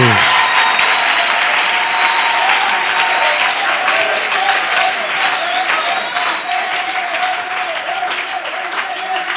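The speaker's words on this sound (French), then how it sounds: "Acclamons très fort le Seigneur Bwana Yesu Jésus-Christ. Kristo, makofi" A church congregation at a Swahili- and French-speaking service applauds loudly and continuously, a dense close wash of clapping that slowly thins toward the end, with some voices mixed in.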